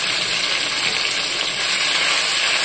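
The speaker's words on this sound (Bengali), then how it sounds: "রসুন আর লঙ্কাটা ভাজা হয়ে গেছে" Crushed garlic paste and chili frying in hot oil with bay leaf and black cumin, a steady, dense, close sizzle that holds evenly throughout with no talk.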